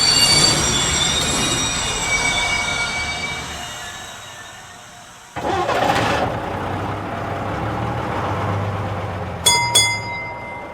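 Train wheels squeal loudly on the rails while a train rolls along, with a rumbling low drone. A sharp change partway through shifts to a new run of screeching, and a brief bell-like ring comes near the end.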